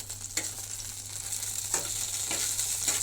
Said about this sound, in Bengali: আমি দিয়ে বেগুন ভাজাটা বসিয়ে দিলাম